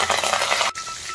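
Cumin, mustard seeds, a small chili and curry leaves crackle and sizzle loudly in hot tempering oil, a dense close frying hiss that cuts off abruptly partway, then a quieter sizzle continues.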